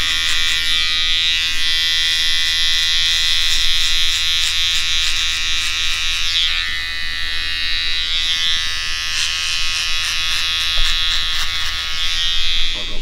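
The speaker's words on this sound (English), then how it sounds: "I'll just use the trimmer to set the skin for when I take the hair off later at the end of the haircut" An electric hair trimmer buzzes steadily and close up while it sets a skin fade in a barbershop haircut, its high whine holding throughout with brief dips as the blade moves.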